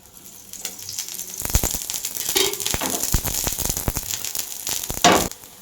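A semolina and potato pancake fries in a pan as oil is poured around its edge, a close, loud crackling sizzle with clattering bursts that swells midway.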